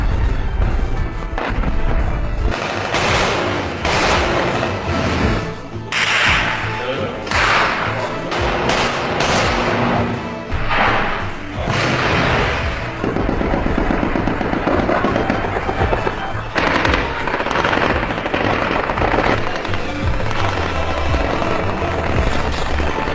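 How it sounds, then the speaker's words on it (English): Heavy barrage of rockets and artillery fire in a real war, dense continuous booms and thuds with crackling blasts, loud and sustained, overlapping explosions rolling one after another with no pauses. "Is the Egyptian army shooting rockets, RPG, missiles, tanks?"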